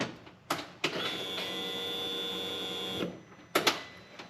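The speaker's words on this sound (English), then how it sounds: "So right there it tells me this fuel pump is getting power itself" A Polaris RZR fuel pump primes when the key is turned on: faint clicks, then a steady quiet electric whine of about two seconds that stops abruptly, followed by a couple more clicks.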